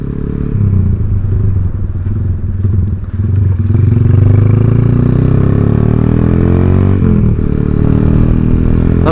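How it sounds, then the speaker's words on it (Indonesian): A modified Honda Tiger motorcycle rides steadily with a loud, continuous engine drone, the revs rising smoothly midway with some mechanical clatter, no voices over it. "Langsung gas wae ah."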